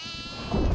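A goat in the horror video game Devour gives a single short, close bleat, nasal and wavering, lasting under a second.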